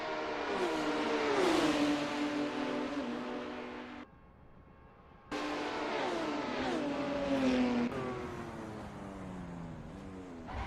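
Porsche race cars lapping Daytona Oval in a racing video game, engines revving loud and near with rising and falling pitch as they pass, a brief drop to quieter engine sound midway before the roar returns.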